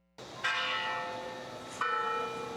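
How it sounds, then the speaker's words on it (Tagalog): Church bell of the Basilica Minore del Santo Niño in Cebu ringing after Mass, two distinct clanging strikes with long ringing decay, clear and moderately near. "tumunog na ang kampana"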